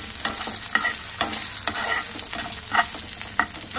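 Cut potatoes tossed and frying in a pan make a soft, continuous sizzle, punctuated by repeated scraping and stirring knocks at an irregular pace, heard up close with no voices.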